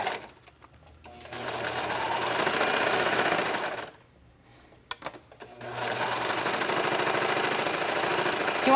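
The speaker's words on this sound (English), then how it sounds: "You want to make sure when you're sewing with the serger that you're not pulling or stretching the fabric." A serger stitches knit fabric for a racer back tank top in two loud sustained bursts of fast, buzzing whir, with a short quiet gap between them and a brief stutter in the middle.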